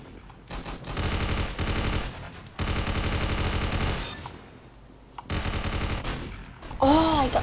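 Bursts of rapid automatic gunfire from the Roblox game Arsenal come loud and close in several separated volleys, with short quieter gaps and someone talking between them.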